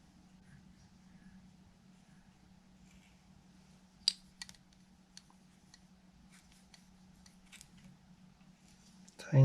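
Small scissors snip a CDC wing on a dry-fly hook during fly tying, a few sharp close clicks between quiet stretches over a faint steady hum.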